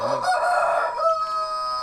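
Two roosters crow in close succession, one answering the other from a different spot, their long drawn-out calls loud and clear with no talking.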